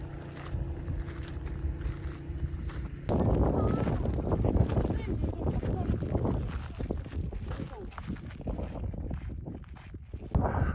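A strong wind blows across the Gobi Desert at Bayanzag in Mongolia, a loud, gusty roar buffeting the microphone steadily throughout, surging harder after the first few seconds.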